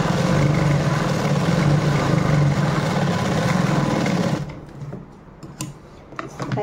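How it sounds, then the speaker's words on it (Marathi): A sewing machine runs a steady, continuous press stitch on a blouse and its lining, its loud close hum lasting over four seconds before it stops, leaving quiet handling sounds. "आपण अस्तर आणि ब्लाऊज वेगवेगळे करून आपण काय करणार, त्याच्यावरती एक दाब मारणार आहे. दाब शिलाई जी असते ना ती."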